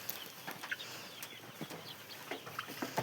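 Faint clucks and chirps come from chickens in a crowded poultry farm coop holding about 3000 birds, scattered soft calls over a low steady background hum.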